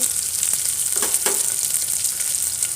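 Sliced large onions drop into hot oil with fennel seeds and curry leaves for a white peas rice, giving a bright continuous sizzle with a couple of soft stirring scrapes, close and loud.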